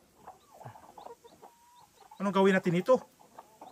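A mother hen clucks near her chicks in a short, loud burst of throaty calls, set against quieter background chatter and faint peeping, with people talking nearby.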